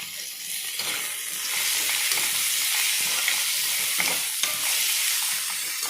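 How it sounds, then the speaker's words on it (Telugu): Tomato pieces frying in a pan for a rajma curry, a loud steady sizzle close by with occasional stirring scrapes. "టమాటో ముక్కలు వేసుకున్నాను ఫ్రై చేయడానికి"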